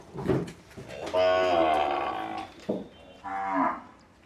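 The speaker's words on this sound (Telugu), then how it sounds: "ఇది చూడండి ఆవు" A Kankrej cow moos loudly and drawn-out nearby, followed a moment later by a second, shorter moo.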